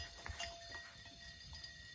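Goat bleating in a farm pen, faint and somewhat distant, with a few short calls over low background rustle and no talk.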